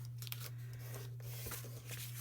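Scissors snip through paper folds while a meander book is made, a few short close cuts over a steady low electrical hum.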